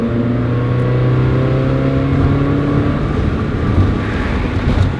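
A Mazda Miata engine revving hard as the car accelerates through dropped gears, a loud, steady, close drone with a rising and falling pitch and no talking.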